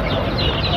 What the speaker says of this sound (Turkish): Burada yine tavuklar var.